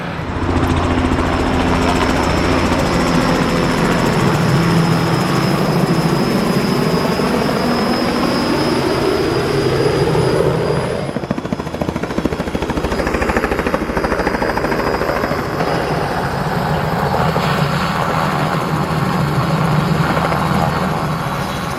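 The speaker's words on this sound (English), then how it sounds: "we have a helicopter going up across there" Steady loud rotor thump and engine roar of a helicopter fill the whole stretch, continuous and close, with a slight shift in tone midway.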